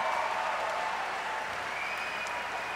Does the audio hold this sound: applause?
yes